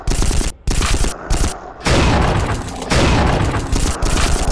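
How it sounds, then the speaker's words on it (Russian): Fully automatic assault rifle in the video game Unreal 2 firing loud, dense bursts, several rapid volleys separated by brief gaps, the last ones long and sustained. "Винтовка полностью автоматическая, так как в основном режиме стрельбы она будет бить очередями."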